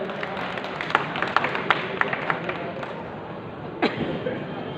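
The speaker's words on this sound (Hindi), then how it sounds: "मैं चाहूंगा उनके लिए जोरदार तालियों से उनका स्वागत अभिनंदन करें।" An audience at a journalists' convention in Aligarh gives scattered, uneven applause, individual claps popping out of a murmuring crowd at moderate distance.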